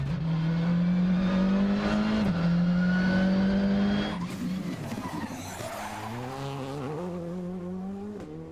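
A Skoda Fabia R5 rally car at a French rally championship event near Antibes screams with a high, sustained engine note and tyre squeal, loud and close, then drops into a rougher, shifting sound partway through.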